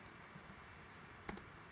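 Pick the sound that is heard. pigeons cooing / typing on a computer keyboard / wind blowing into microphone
typing on a computer keyboard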